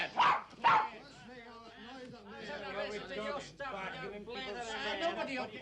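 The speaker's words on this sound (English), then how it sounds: "I thought I heard a dog myself." Dog barking in a 1961 Disney drama set in Edinburgh, with a couple of loud close yaps at the start, followed by an excited, chattering mix of voices and whimpering yips.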